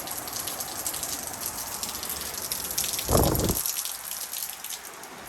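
A shower runs with the hot water heater switched on in a small bathroom, a steady hiss of spraying water with a brief louder gush partway through.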